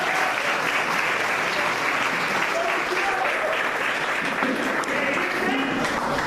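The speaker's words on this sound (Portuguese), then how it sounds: "Dá uma salva de palmas ao nosso Deus." A congregation at a church ordination service breaks into sustained, full-room applause, with voices and some music audible through the clapping.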